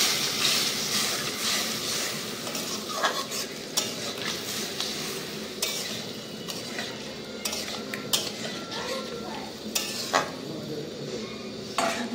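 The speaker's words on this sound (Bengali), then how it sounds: "এবার একটু নেড়ে নেবো।" Pie curry being stirred in a pan sounds like a spoon scraping and knocking rhythmically against metal over a soft simmering sizzle, close and repeated for many seconds.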